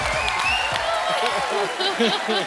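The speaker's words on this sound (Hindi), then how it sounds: "हो जाए हमारे दर्शकों के लिए थोड़ा सा जोरदार तालियां पहले हो जाए" Studio audience at an Indian comedy show clapping loudly on request, a steady burst of applause with voices and music mixed in the hall.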